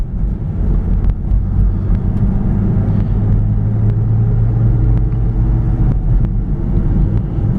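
A 2006 Mercedes-Benz ML350 AWD SUV drives uphill under power, its engine a loud, steady low rumble with road noise heard from inside the cabin, continuous throughout.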